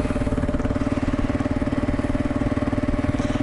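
A Kawasaki KLR motorcycle engine drones steadily and loudly close up, its pulsing mid-range note holding fairly even as the bike rolls at low speed.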